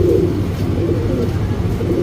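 Pigeons for sale in Bangalore coo steadily and loudly, close by, with a continuous low rolling murmur filling the whole short stretch and no talk over it.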